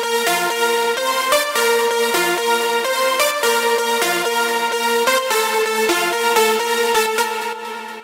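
Full electronic dance mix of layered synth leads with sidechain pumping, produced in FL Studio, playing a bright, dense chord progression continuously and loudly with rhythmic ducking and no voices.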